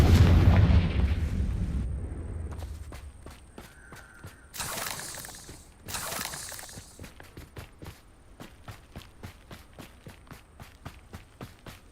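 Confringo explosive spell blasts in the Hogwarts Legacy video game: two loud, sharp bursts a second apart in the middle, after a rumbling start and between rhythmic, steady footsteps that continue to the end.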